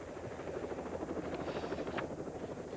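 Helicopter flying nearby in Buckinghamshire, its rotor producing a steady, rapid chopping thrum over a broad engine roar, continuous and moderately loud.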